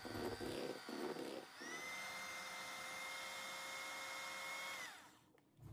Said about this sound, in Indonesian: kemudian diaduk atau di mixer perlahan sampai tercampur merata